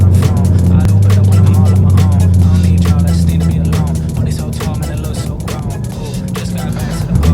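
A Ford GT race car at a track day rumbles with a steady, loud engine drone as it drives into the pit lane, with scattered clicks and knocks over the running motor.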